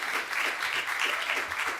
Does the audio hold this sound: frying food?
no